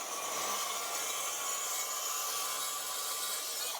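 Saw ripping a 1/16-inch strip off a sheet of plywood, a steady continuous rasping cut that holds at an even level for several seconds, close up and alone without talk.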